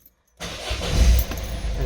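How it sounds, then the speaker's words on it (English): A Citroen Berlingo Multispace engine is cranked and catches after a brief silence, turning over with a loud low rumble that settles into a close idle, with a faint jangle of keys. "I'm going to turn the car on now"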